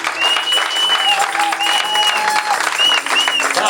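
Congregation applauding and acclaiming the Lord during a church service, a steady wash of clapping and raised voices with sustained shouts rising over it, close and loud throughout.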